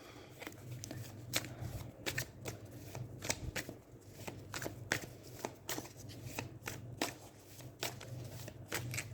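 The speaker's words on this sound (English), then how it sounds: "I want to pull some more cards." Tarot cards being shuffled for a reading, a run of crisp riffling bursts repeating in an uneven rhythm, close by over a low steady hum, with no talking.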